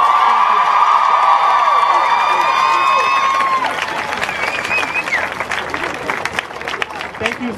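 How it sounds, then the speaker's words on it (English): A crowd at a student rally against gun violence at the Iowa Capitol claps and cheers loudly and steadily, with high whoops and shouts on top early on, sustained applause continuing throughout. "can we just have another big round of applause for everyone who just spoke?"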